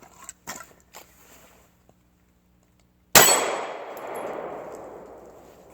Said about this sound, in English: Let's do a little practice shooting.